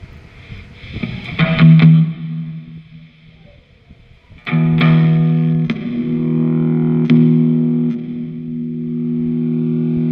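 Electric guitar played through a Cuvave effects unit set to distortion: a few gritty plucked notes, then long sustained distorted chords ringing out with thick, buzzing harmonics, loud and close with no talking.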